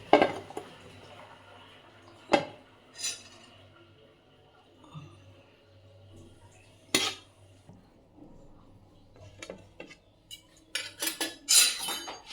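A spoon scrapes and clinks against dishes while rice is served onto a plate, sparse sharp metallic taps and scrapes spread across a quiet background, louder clatter toward the end.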